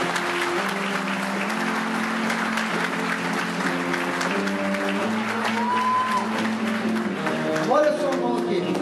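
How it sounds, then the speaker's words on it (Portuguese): A church congregation applauds continuously, dense clapping sustained throughout, while a preacher's voice and some sung or held tones carry over the top. "Dê uma salva de palmas para Jesus"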